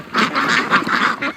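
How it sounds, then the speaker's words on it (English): A big Peking duck quacking loudly and close, a rapid run of about five harsh nasal quacks with no pauses. "that's a big Peking duck"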